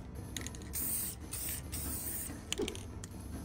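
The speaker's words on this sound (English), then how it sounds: "I then use the same silver spray paint to cover the flowers." Silver aerosol spray paint being sprayed onto decorative flowers in short bursts, each a bright hiss separated by brief pauses, with a small clatter near the end.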